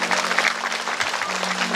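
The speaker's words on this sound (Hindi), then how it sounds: "तालियां बजाइए।" An audience at a Shiv Mahapuran katha gathering applauds, giving a steady, dense wash of clapping from many hands throughout, moderately loud and without pauses.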